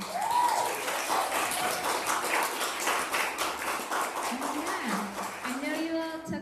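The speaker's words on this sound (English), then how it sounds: "Give them a round of applause as well." Audience applause at an arts community event, sustained rhythmic clapping from a room full of people, with a speaker's voice rising over it toward the end.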